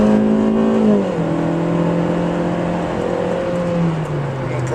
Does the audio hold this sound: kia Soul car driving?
yes